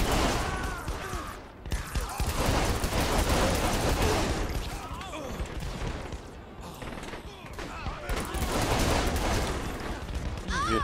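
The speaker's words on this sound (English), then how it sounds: "Who's shooting me?" Gunfire in the video game Saints Row: The Third: dense, loud, overlapping bursts of shots roll on almost without a break, swelling and dipping in waves throughout.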